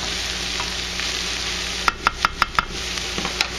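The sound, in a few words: chives sizzling as they cook down in a pan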